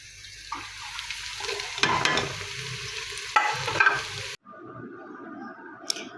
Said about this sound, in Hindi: तो सबसे पहले हमने प्याज फ्राई करने हैं